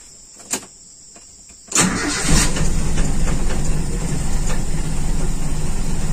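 A Toyota Kijang Super with a carbureted engine, already warm, cranks after a brief click and quickly catches, settling into a steady, fairly loud idle close by with no talk.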